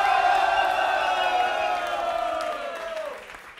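A live concert audience cheers and whoops for a rapper at an RSI Rete Tre show, a loud crowd roar with a shouting voice on top that fades over a few seconds.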